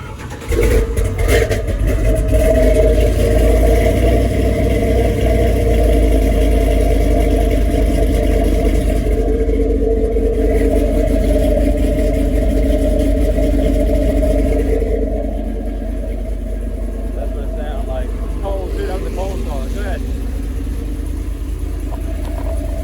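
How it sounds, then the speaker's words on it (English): A Chevy S10 truck with a 383 LS engine, parked on a trailer, is started and its exhaust rumbles at a loud, steady idle, with a couple of revs early on before settling into a lower, even drone. "I'll crank up the truck and let you hear that exhaust while it's on a trailer."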